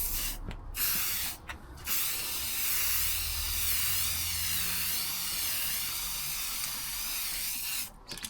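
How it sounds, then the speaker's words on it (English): Aerosol spray paint can hissing in long continuous bursts with a couple of brief pauses, close and steady, with no voices, applied to a panel in a Ford Transit Custom camper conversion. "so we got some spray paint."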